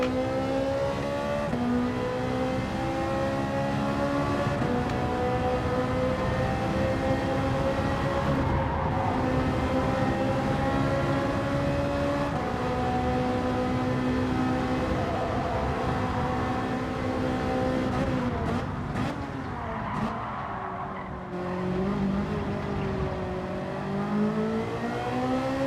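Race car lapping a circuit in Gran Turismo 7, a steady engine drone rising and falling in pitch with gear changes and revving through tight turns, heard close and continuous with no talking.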